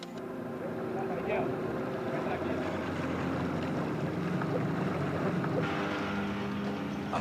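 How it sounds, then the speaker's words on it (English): Boat engines roaring on the Paraná river during an animal rescue at the Porto Primavera reservoir, a constant loud rumbling drone with wind buffeting, continuous throughout. "terrified by the roar of the engines"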